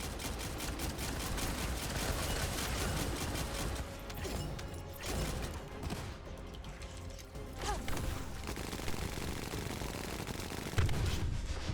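Enemy gunfire striking the player in The First Descendant amid steady combat noise, with mechanical clanks and scattered impacts running throughout, one sharper hit near the end.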